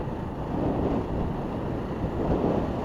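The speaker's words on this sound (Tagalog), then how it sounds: "May hangin pa. May hangin pa mga idol." Strong wind buffets the microphone in a continuous, gusty roar with no voices.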